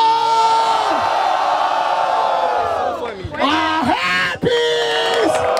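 At a rap battle in Barueri, a crowd cheers and whoops for a rapper: loud sustained yelling, with rising and falling whoops sweeping through, strongest near the end.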